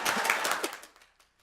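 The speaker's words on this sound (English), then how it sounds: "Yes, you can clap." Clapping from an audience in a board room at a diversity forum, a brief burst of close hand claps that thins to a few scattered claps and dies away into silence within a second.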